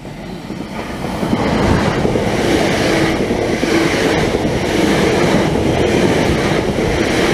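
A freight train pulling a wagon for carrying molten metal rolls past with a loud, steady rumble and rattle of rail cars, growing a little louder as it nears.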